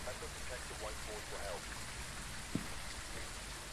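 Steady rain in the video game Phasmophobia hisses continuously, with faint voices murmuring underneath and a single soft thud partway through.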